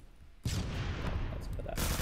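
A Honey Badger rifle converted to a machine gun fires in a shooter video game, a dense, loud burst of rapid automatic fire that starts abruptly and runs continuously.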